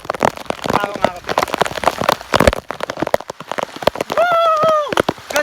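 Rain falls steadily in a dense, crackling patter, with people talking and shouting close by over it.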